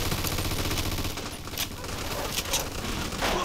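Sustained heavy machine gun and rifle fire during a firefight in Mafia 2 Definitive Edition, loud and continuous with several sharp bursts standing out near the end.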